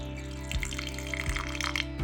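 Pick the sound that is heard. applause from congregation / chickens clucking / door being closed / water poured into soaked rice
water poured into soaked rice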